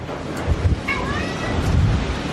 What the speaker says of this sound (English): Look at this wind. Look at that fucking wind.